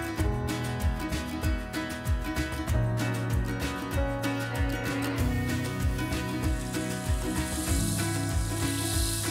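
Beef rolls dusted in flour frying in butter and oil in a pan, a steady loud sizzle running throughout under a layer of background music.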